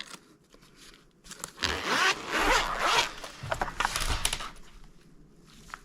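Zipper on a pencil case pulled open in a long, rasping run of several seconds, close and clear, in a quiet indoor setting with no talk.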